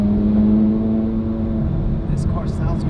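A Porsche Carrera GT engine with straight-pipe exhaust rumbles and revs with a deep, steady exhaust tone, fairly loud and close, with a brief higher burst near the end.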